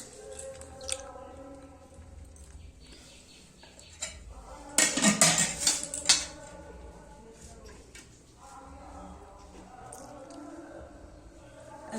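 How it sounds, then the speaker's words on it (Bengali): Rice is served onto a plate with a short burst of clinking dishes and utensil scrapes midway, set against an otherwise quiet kitchen with soft background noise. "তো এই ভাতটা বেড়ে নিলাম এইভাবে।"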